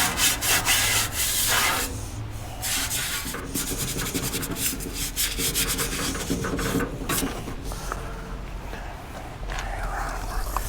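A dirty, stained blower wheel is scrubbed steadily, giving continuous close scraping and rubbing strokes with no talking.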